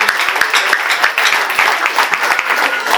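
A church congregation claps for Jesus in steady, rhythmic applause, loud and close, with voices and a few calls mixed in over the hand claps.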